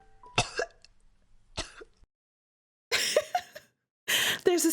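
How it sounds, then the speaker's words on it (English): Several sharp coughs in separate bursts, the later ones louder and harsher, with brief pauses of silence between them. "There's a sudden cough behind us."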